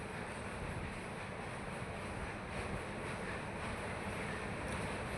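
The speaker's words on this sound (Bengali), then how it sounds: "এই দেখো নৌকো আসছে, নৌকো অল টাইম চলতে থাকে।" A boat moves across river water near Nabadwip, giving a constant broadband rush of water and engine-like rumble mixed with wind buffeting the microphone, steady and unbroken, with no talking.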